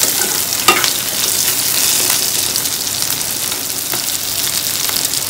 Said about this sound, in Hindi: अब हम इसमें काजू डाल देंगे और इसको भी हम थोड़ी देर के लिए भून लेंगे।